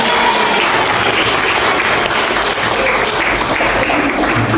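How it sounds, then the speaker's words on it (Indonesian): A loud, continuous burst of applause from an audience at a university teaching session fills the whole clip with dense, even clapping. "Oke, cocok, tepuk tangan."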